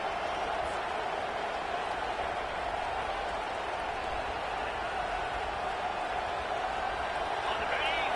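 A stadium crowd at a Georgia Tech at Virginia Tech football game roars steadily behind the home defense in the red zone, a dense, unbroken wash of cheering beneath a commentator's talk.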